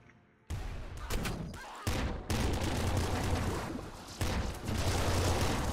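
Ion cannon fire in the Nuclear Throne video game, heavy crackling blasts that erupt repeatedly in loud overlapping bursts with short gaps between them, filling the clip.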